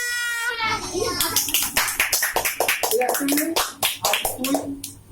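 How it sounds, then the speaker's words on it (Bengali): A small audience claps in a quick, uneven patter of sharp hand claps. Children's voices and chatter are mixed in throughout. "আসছে সূর্য মন্ডল তালিয়া"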